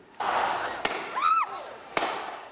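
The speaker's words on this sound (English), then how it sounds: "But they were shooting as well." Gunshots ring out as police fire on protesters in a Yangon street, two sharp loud cracks about a second apart over crowd noise, with a shout or whistle-like cry between them.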